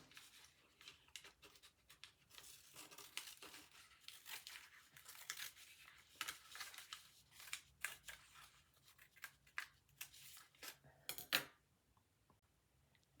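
Scissors cut a shape out of used calendar paper, with soft, close snips and rustling, crinkling paper in uneven bursts that end with a sharper snip, all quiet and without talking.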